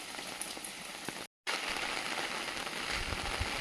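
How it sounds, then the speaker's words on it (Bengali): Rain falls steadily in a broad, even hiss on an outdoor surface around a house. The noise cuts out briefly after about a second, then carries on at the same level. "আজকে সারাদিন তো বৃষ্টি লেগে"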